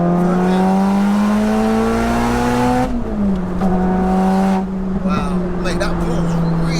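A 4WD-converted 601bhp Cupra R engine drones loud and close, its pitch climbing then dropping as the revs fall, with crackling pops and bangs from the exhaust and a voice talking over it.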